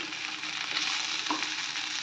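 Prawns and spring onion sizzle in hot oil tempering for a loose prawns fry, a steady crackling hiss with light stirring scrapes, close and continuous without speech.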